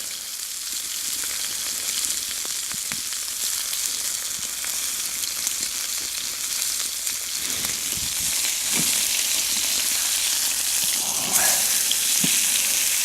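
Steak searing in a hot pan makes a steady, close sizzle that runs for several seconds, broken by occasional sharp pops and spatters, with no voices.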